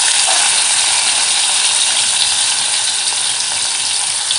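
Garlic cloves and tomatoes dropped into hot oil with cumin and frying curry leaves, a loud, steady, close sizzle that holds without pause.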